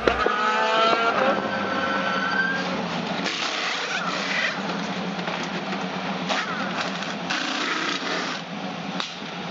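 IndyCar race cars on a Canadian track, a sustained, loud, high engine whine with shifting tones and brief surges as cars pass by, steady throughout with no voices.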